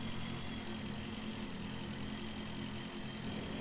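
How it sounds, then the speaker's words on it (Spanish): Motorbike in the space game Breathedge, its engine a continuous, even, buzzing drone running at speed without letting up, loud and alone. "Que rápido voy con la moto ahora, tío."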